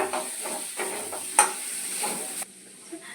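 A fish bhujia with chopped coriander leaves is stirred in a frying pan on a gas stove, giving soft scraping strokes over a steady sizzling hiss, with a sharper clink of the utensil midway before the sizzle drops away near the end.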